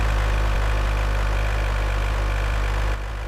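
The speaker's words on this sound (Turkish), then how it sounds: "Traktör gibi lan bu arabanın sesi." A steady, low-pitched car engine drone in the game Car Dealer Simulator runs continuously with a rough, tractor-like hum, loud and unchanging, then dips slightly near the end.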